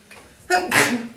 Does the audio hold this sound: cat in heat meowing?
no